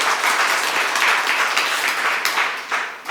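Steady applause from a church congregation at a New Year Sunday service, honoring grandparents and parents raising babies; dense, even clapping fills the room throughout, easing slightly near the end.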